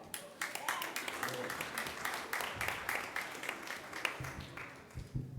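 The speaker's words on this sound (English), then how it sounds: "A hand clap." A congregation at a Sunday service clapping together, a fairly faint, scattered round of applause lasting several seconds with uneven individual claps.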